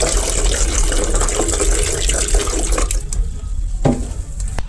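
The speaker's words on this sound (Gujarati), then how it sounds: "હવે લાસ્ટમાં આપણે આ ફર્ટિલાઇઝર નાખીશું." Liquid organic fertilizer poured onto plants, a steady watery splash and trickle that runs continuously and then thins out, close and fairly loud.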